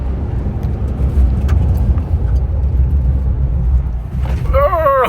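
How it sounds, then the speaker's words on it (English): A 2025 GWM P300 pickup truck is driven, with a steady low engine and road rumble heard from inside the cab, and a voice begins talking near the end. "it was Muzi's turn to get behind the wheel of the P300"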